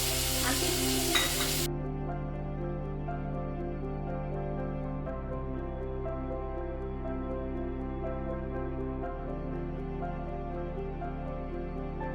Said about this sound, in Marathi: आता याच्यामध्ये आपण कांदा लालसर होईपर्यंत परतून घेणार आहोत